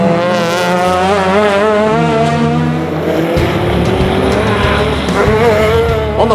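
Rotary-powered Mazda RX-3 and Nissan GTR race cars battle on the final lap of a feature race at the Waimate 50 street circuit, engines wailing loud and close with shifting pitch and a brief tire squeal.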